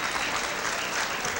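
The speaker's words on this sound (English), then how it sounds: "how about a nice round of applause for Kenny Chisholm" A boxing crowd gives a round of applause for boxer Kenny Chisholm, a dense, steady wash of clapping that fills the short moment without a break.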